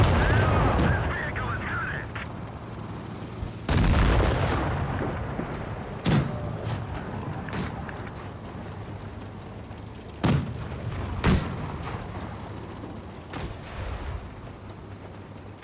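Tank cannons fire high explosive rounds in a World of Tanks Blitz match, sharp booms at irregular intervals each trailing off into rumble, one heavy blast standing out, with a voice talking over the game audio.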